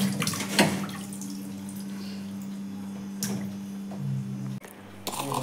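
Raw chicken pieces rinsed under a steady stream of running water, with a constant close wash and splash and a few louder sloshes and squishes as the meat is handled.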